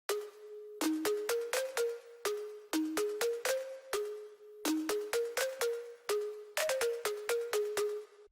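Lead melody played on the Silent One synth plugin, a bright plucky tone in short repeated note phrases with quick small grace notes between them, clean and alone.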